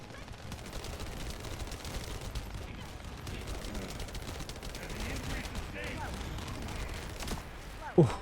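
Gunfire in the video game The First Descendant, dense rapid shots rattling continuously through the clip at moderate loudness, ending in a sharper burst, with a player talking over the action.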